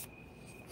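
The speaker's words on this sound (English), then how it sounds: "Those are real live crickets." Crickets chirp outdoors at night as a single steady, faint trill that holds evenly through the moment, with no voices over it.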